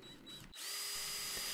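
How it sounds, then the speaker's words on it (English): A power drill pre-drills a recess for a screw head in wood, spinning up after a short lull into a steady, close, high whine that holds to the end. "I'm pre-drilling a little space for the head of the screw"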